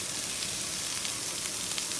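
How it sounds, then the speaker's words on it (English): Vegetables hit a hot pot with a pot roast and sizzle steadily, a continuous bright frying hiss with faint crackles, close and fairly quiet with no talking. "Toss in all our veg."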